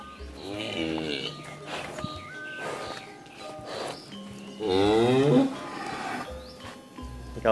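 Cattle low and moo twice in a barnyard, a nearby two-year-old cow calling out clearly, with the second call louder, amid people talking and background farm noise.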